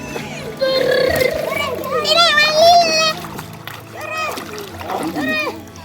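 Bathers splash into warm lake water at a beach on a hot summer day, with the water sounds mixed under excited children's shouts and lively chatter.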